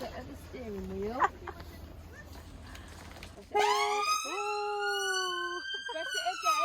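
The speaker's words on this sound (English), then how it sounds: "Do you want to put the siren on?" A toy police car's electronic siren switches on after a pressed steering-wheel button, wailing loudly and steadily at close range for the last few seconds, with children and adults talking over it beforehand.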